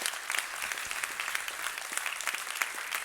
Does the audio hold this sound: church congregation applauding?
yes